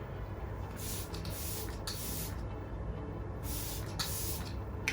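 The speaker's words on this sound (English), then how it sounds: "I use the Glam Glow Glow Setter, and I just spray that all over." Several short bursts of setting spray misted onto a face, hissing in quick puffs with brief pauses between them, close to the microphone.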